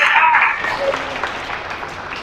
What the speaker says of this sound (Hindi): ताली बजाते हैं, यीशु को धन्यवाद करें।